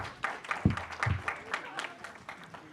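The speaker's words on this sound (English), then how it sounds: "As we have come to the end of competition, give them a round of applause" Faint, thin applause from the audience at the end of a national science quiz competition final, a few scattered claps with some low voices mixed in, distant and quiet.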